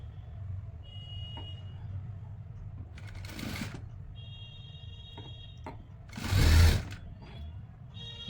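A sewing machine stitches the side seam of a baggy winter shirt in short, quiet bursts separated by pauses and small clicks, with one louder rustle of handled fabric near the end.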